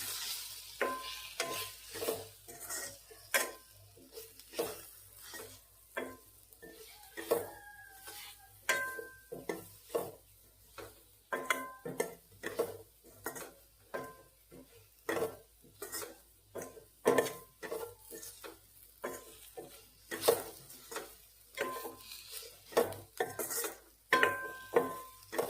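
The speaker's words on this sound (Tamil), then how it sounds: "இந்த பொடி வாசம் லேசாக போகிற வரைக்கும் வதக்கிக்கலாம்." Spice powder stirring and sizzling in a pan as bitter gourd kulambu is cooked, a steady run of scraping spoon strokes against metal with soft frying sizzle underneath, close and moderately loud, no voices.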